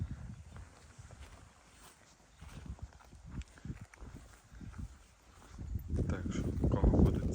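Draft work horses' hooves clip-clop at a walking pace amid outdoor noise, with a louder, busier rustling and thudding stretch near the end.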